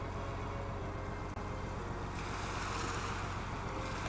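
Ocean waves lapping against a ship at sea in the visual novel game Robotics;Notes DaSH, a continuous wash of surf mixed with steady wind, broad and even, with no voices.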